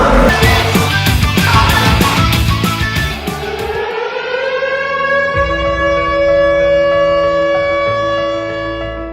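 A civil-defence air raid alert siren wails with a long rising then steady tone, heard loud and alone after a burst of mixed noise at the start.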